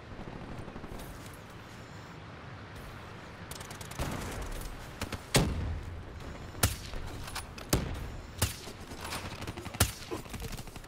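Sharp, isolated sniper rifle shots in a Hardpoint match of a video game, several loud cracks spaced a second or two apart over a low, steady background of game ambience.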